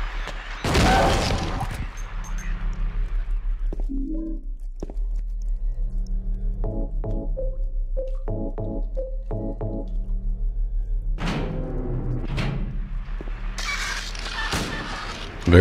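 Shotgun blasts from the survival horror game Silent Hill 2: a loud booming shot opening the passage and a second burst near the end, with game ambience, pump-action clacks and creature footsteps shuffling between.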